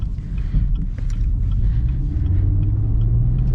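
A Chevrolet Camaro ZL1 1LE engine rumbles deep and steady from inside the cabin while driving, loud low drone with no one speaking.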